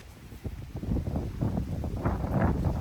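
Wind gusts in a garden at Harold Hillier Gardens buffet the microphone, giving a low, uneven rumbling roar that swells and eases over a few seconds, with no talk.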